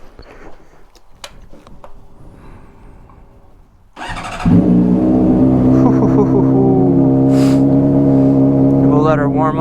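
A 2015 Honda CBR 600 RR motorcycle engine fires up and settles into a steady, loud warm-up idle, a strong harmonic drone that holds on after a few seconds of quiet background.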